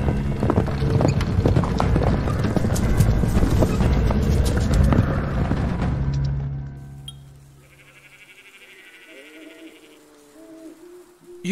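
Horse hooves clip-clop steadily in a dark moor setting in the adventure game Endless Fables 3: Dark Moor, dense and close for several seconds before fading out, followed by quieter tonal ambience.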